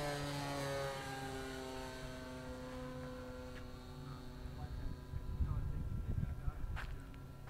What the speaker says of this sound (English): Wow, it's a beautiful flying plane.